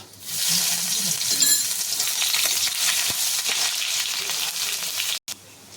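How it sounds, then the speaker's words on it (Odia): Green chili and garlic sizzle loudly and steadily in hot mustard oil in a pan, with stirring, before water spinach greens are added. A brief dropout near the end is followed by a quieter sizzle. "ଦେଇଦେଲି ସୋରିଷ ତେଲ ଏବେ ଫୁଟଣ କଞ୍ଚା ଲଙ୍କା ରସୁଣ"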